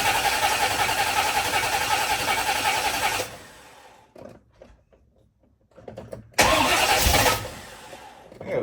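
1979 El Camino engine running loudly, then cutting out to a quiet gap with clicks and cranking, before firing up again with a sudden close roar that settles toward idle.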